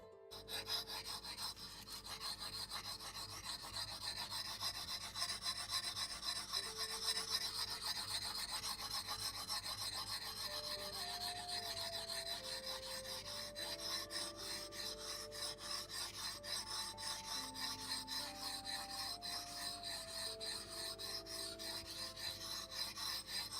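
Steel blade drawn back and forth across a handheld whetstone, a steady close rasping scrape in continuous strokes with no talk.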